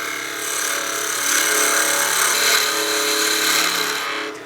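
Stabilized wood being cut with a 3/8 spindle gouge on a spinning lathe: a steady, bright shearing hiss that swells slightly and holds for several seconds, close and loud, with no talk.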